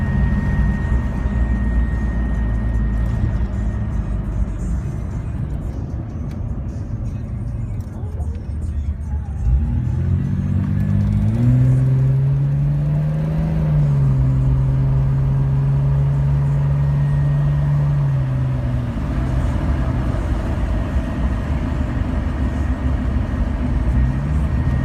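A lifted Stage 3+ Jeep Cherokee Sport accelerates on the road, its engine holding a steady hum that climbs in pitch midway and then levels off, with someone talking over it.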